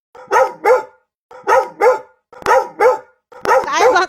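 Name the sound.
dogs barking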